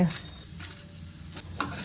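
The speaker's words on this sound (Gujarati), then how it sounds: "જ્યાં સુધી આપણી ગોટલી ફ્રાય ન થઈ જાય ત્યાં સુધી આપણે તેને સતત હલાવતા રહીશું" Roasted mango seed mukhwas is stirred continuously in a pan, giving a few scraping, rustling strokes over a faint, steady sizzle, with no talk.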